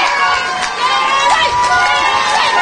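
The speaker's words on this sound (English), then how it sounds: "They're getting a great applause as they come off here." Spectators at the Derry v Meath All-Ireland Intermediate camogie final applaud and cheer as players come off the field, a loud, dense crowd roar that carries on steadily beneath a commentator's voice.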